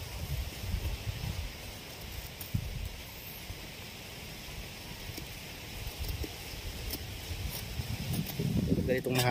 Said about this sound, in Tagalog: Ganitong mahangin eh